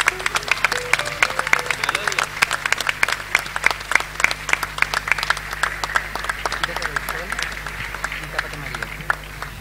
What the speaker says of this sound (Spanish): y un aplauso para ella, por favor